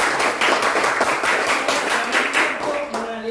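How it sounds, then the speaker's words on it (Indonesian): Schoolchildren in a classroom clap for their classmates, a brisk, rhythmic round of close clapping with voices mixed in. "tepuk tangan dulu untuk teman-teman"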